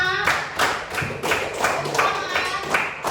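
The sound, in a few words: class clapping hands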